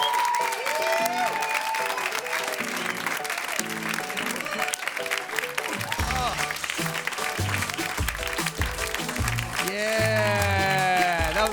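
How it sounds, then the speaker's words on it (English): Audience applause closing a stand-up comedy special, sustained clapping running throughout while someone speaks over it. "I think I leave while you're still clapping"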